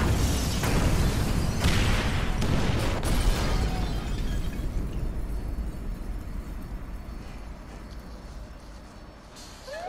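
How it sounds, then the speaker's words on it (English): Incendiary explosives detonate in Grand Theft Auto V with a loud rumbling roar of blasts and crackling bursts, strongest at first and then tapering into a sustained burning wash. "Detonate the incendiaries"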